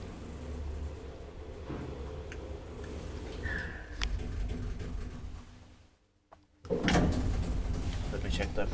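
Old Semag traction elevator doors in an apartment building in Järvenpää slide open and shut with a mechanical rumble, clunks and a brief hush before a louder closing thud, with people talking close by.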